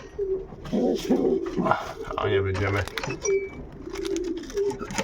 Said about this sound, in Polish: Tu są 2 gołębie na długi dystans,